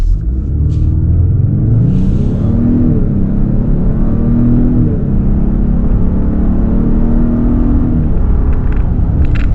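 A 2026 Ford Explorer Tremor 4x4 with a 300-horsepower turbocharged inline-four pulls away, its engine drone climbing steadily in pitch under a constant loud cabin rumble.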